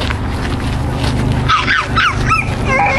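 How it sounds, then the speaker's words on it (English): A dog yips and whimpers in high, bending cries over a steady low rumble, several short calls clustered near the end. "Hi guys, see my dog."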